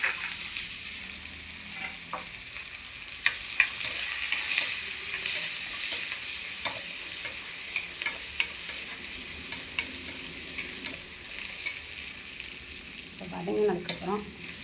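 Onions, curry leaves and small shallots frying with asafoetida in a pan for sambar, a steady broad sizzle with scattered stirring scrapes and clicks, close and continuous without talk.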